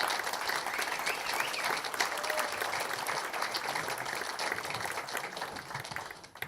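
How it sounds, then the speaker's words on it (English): A crowd at a political candidacy announcement in Pennsylvania gives elected officials a round of applause, a dense, sustained burst of clapping that holds steady for several seconds before tapering off. "Let's give our elected officials a round of applause first."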